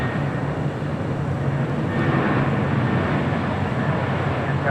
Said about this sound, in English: British Airways Flight 280 heading back to London on a 777-300ER, also lighting up